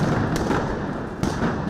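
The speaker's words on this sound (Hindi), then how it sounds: "और उसमें धमाके होने लगे।" Explosions crackle and thud inside a snowman effigy burning atop a pile of hay, a dense roar of fire with two sharper bursts standing out, loud and close, with no talk.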